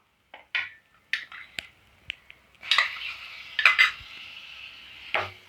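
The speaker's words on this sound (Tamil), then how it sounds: "இஞ்சி பூண்டு பேஸ்ட் நல்லா பச்சை வாடை போகிற வரைக்கும் வதக்கி விட்டுட்டே இருங்க." Ginger garlic paste sautéing in a pan, with sharp metal utensil scrapes and clinks against the pan in irregular bursts and a faint sizzle between them, close and without talk.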